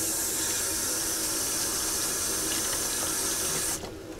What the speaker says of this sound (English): I'm just gonna put it in a little thing full of hot water and just give it a little wash.